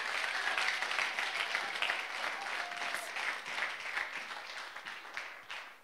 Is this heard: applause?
yes